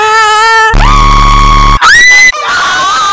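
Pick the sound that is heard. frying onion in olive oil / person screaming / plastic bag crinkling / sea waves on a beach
person screaming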